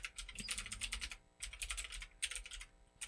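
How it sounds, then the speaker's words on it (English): Rapid typing on a computer keyboard, bursts of close, clicky keystrokes separated by short pauses, quiet and alone with no talk. "let me type this out real quick"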